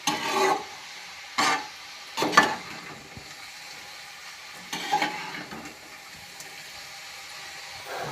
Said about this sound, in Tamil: காய் கொட்டி நல்லா அடியில் இருக்கிற பருப்பு வெங்காயம் எல்லாமே மேலே வர மாதிரி கிளறி விட்டுருவோம்.